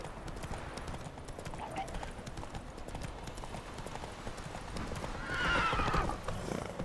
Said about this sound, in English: Whoa there, Roach. We going?